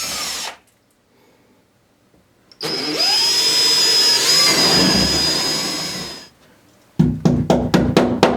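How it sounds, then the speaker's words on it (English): A power drill bores holes in a wall during installation of a hand-hygiene dispenser, with a short burst followed by a longer whining run, then a quick series of sharp knocks. "Drill the extra hole behind the dispenser for the wires."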